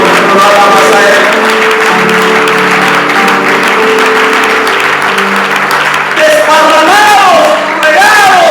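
A large church congregation claps and cheers loudly, sustained applause filling the space with a few shouts and a voice rising over it near the end.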